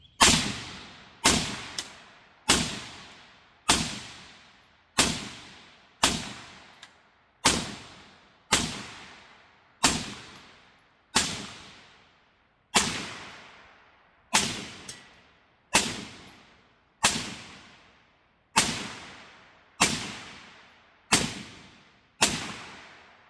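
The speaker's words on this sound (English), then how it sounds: "let's load a new round. Flip it back on fire, and keep shooting." A suppressed PSA AR-15 rifle fires a long steady string of about seventeen sharp, evenly spaced shots, each a crisp crack with a short decaying tail, close by with no talking.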